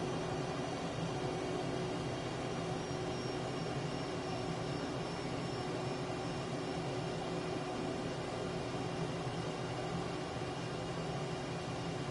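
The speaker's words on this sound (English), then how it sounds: "Flying a Cessna is so much fun." A Cessna's engine drones in Microsoft Flight Simulator 2024, a steady, even hum with no change in pitch that runs unbroken for about twelve seconds at low volume.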